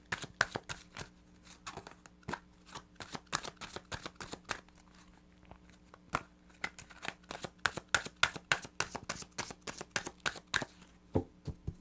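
Tarot cards are shuffled by hand close up, a fast stream of crisp riffling and slapping card sounds repeating steadily throughout, quiet and alone.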